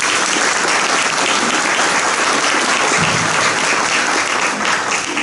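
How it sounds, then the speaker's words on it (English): Loud, dense applause from a county political forum audience for school board candidates, a continuous full-room roar of clapping that holds steady throughout. "Let's give these candidates a round of applause"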